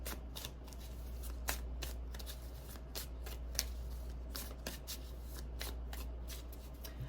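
Tarot cards from a cryptid-themed deck being shuffled by hand, a continuous close riffle of papery flicks and soft slaps with repeated sharper snaps, over a low steady hum and no talk.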